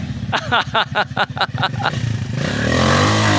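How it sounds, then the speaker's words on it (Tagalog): A motorcycle climbing a rocky trail in Capiz, its engine popping in a quick run of loud, rhythmic bursts before settling into a steadier revving drone, close to the microphone. "Nasaan na yung bagong kondisyon na motor natin dyan?"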